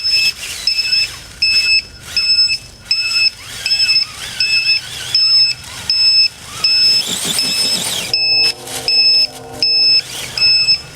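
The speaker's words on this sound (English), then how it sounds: "That's actually a bad LiPo alarm" A LiPo battery low-voltage alarm on an AX10 Bouncer RC car sounds in loud, steady, regularly spaced beeps, about one per second, with outdoor rustling and a brief burst of noise partway through.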